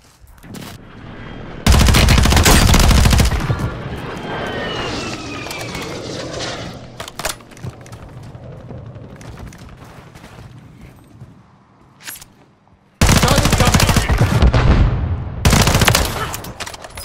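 Automatic gunfire in a Call of Duty match, bursting loud at the start and end with lighter scattered shots and battlefield noise in between.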